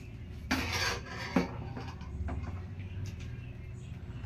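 Half-cooked rice is added to a mutton dum biryani pot set on a tawa, starting with two sharp metallic clanks and followed by softer scraping and shuffling noises.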